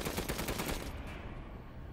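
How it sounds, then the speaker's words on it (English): A machine gun firing in Resident Evil Village, a dense, rapid burst of shots that rattles loudly and then cuts off into a lingering rumble. "machine gun"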